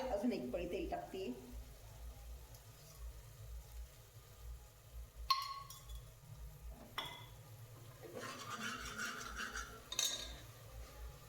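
Onions frying in oil in a pan while an Indian mutton curry is made, with a ladle of oil poured in: a steady low sizzle with clinks of the ladle and a brief burst of louder frying, under a woman's speech.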